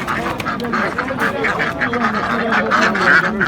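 Several ducks quack repeatedly in a lively, overlapping chorus close by at a poultry market in Kırıkkale, Turkey, with some murmured voices mixed in underneath.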